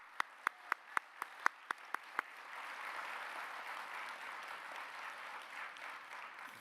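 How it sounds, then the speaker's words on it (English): A town hall audience in Rocklin breaks into applause: a few sharp, separate claps at first, then a steady wash of many hands clapping that holds evenly to the end, with no talking. "Would you join me in applauding their courage?"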